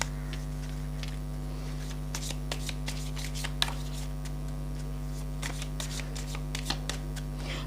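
Oracle cards being shuffled by hand, a steady run of soft riffling flicks and card slaps close by over a constant low electrical hum, with no talking.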